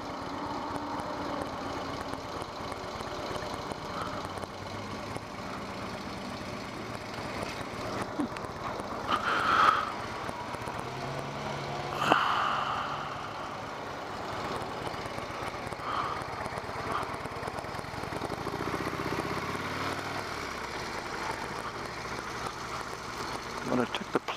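A Harley-Davidson Low Rider S motorcycle idles with the plugs removed from its stock mufflers, a steady mid-pitched rumble holding throughout with a couple of brief revs, under faint background noise.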